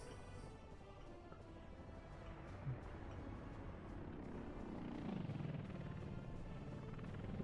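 A constant, faint mechanical whir of helicopters flying in the city-building game Workers & Resources: Soviet Republic, continuing as a steady background drone for several seconds with no voices.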